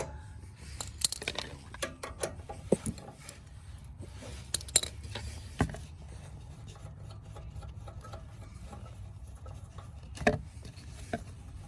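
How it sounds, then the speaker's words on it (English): A 10mm metric socket unscrews the carburetor cover on an Ariens 920021 snowblower, producing scattered close metallic clicks and rasping turns with brief pauses, fairly quiet against a low background hum. "what you'll need to open this up is a 10mm metric socket, and you'll just unscrew this here"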